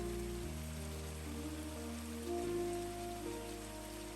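Chopped tomato and mutton frying in ghee for a curry with pumpkin, a steady crackling sizzle heard close and even throughout, with a faint electric hum underneath and no voices.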